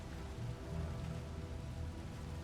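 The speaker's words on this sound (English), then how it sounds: "The only thing that Damien can do is just simply use Acid Rain." An acid rain skill effect from the video game Darkest Dungeon 2 gives a faint, steady pattering wash of rain-like noise with a low rumble beneath, lasting the whole moment.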